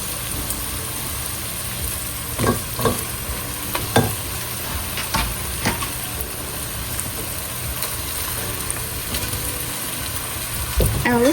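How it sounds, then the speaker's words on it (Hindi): Tomatoes go into keema frying in a pan, giving a steady sizzle throughout, with several scraping stirs and clinks of a utensil. "I'm gonna put some tomatoes in it."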